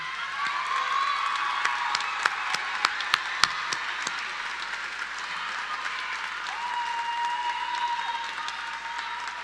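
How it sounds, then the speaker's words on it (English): A school auditorium audience applauds National Junior Honor Society members at a middle school promotion ceremony, with steady, full clapping that runs throughout, a few sharper individual claps standing out near the front. "If all of you could please stand up, we'd like to give you a round of applause as well."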